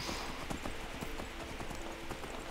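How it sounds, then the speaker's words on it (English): Steady clip-clop of a horse's hooves as it is ridden in Skyrim, close and even-paced, with a faint whinny-like edge over a hissy background. "Look at my horse. My horse is amazing."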